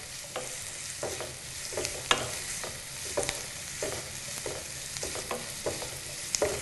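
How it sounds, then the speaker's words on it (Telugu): Sliced onions and green chillies fry lightly in a pan for a potato and cabbage curry. A steady sizzle runs throughout, with the spoon scraping and stirring the pan at regular intervals. "ఉల్లిపాయ ముక్కలు అలాగే పచ్చిమిర్చి రెండు కూడా లైట్ గా వేగేంత వరకు మనం వీటిని వేయించుకోవాలి"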